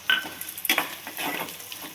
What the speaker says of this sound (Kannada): ಆಮೇಲೆ ನಾವು ಒಗ್ಗರಣೆಗೆ ಸ್ವಲ್ಪ ಗೋಡಂಬಿ ಮತ್ತು ದ್ರಾಕ್ಷಿನ ಹಾಕೊಳಕತ್ತೀವಿ.